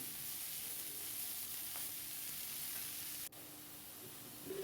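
Red amaranth greens dropped into a wok of fried garlic, onion and chili give off a faint, steady sizzle with a light hiss of steam, heard alone.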